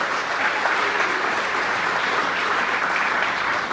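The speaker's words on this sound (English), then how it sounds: "Let's give them a big round of applause." A conference audience at a green growth convening on Saipan claps in a loud, continuous, even wash of applause that holds steady throughout.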